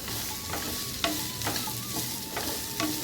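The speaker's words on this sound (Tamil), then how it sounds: "குடமிளகா இது ரெண்டு நல்லா கொஞ்ச நேரம் வறுத்துடு" Baby corn and capsicum frying in a pan, a steady hiss of sizzling oil with occasional light scrapes and clinks of a spoon stirring, close and even throughout, no talking.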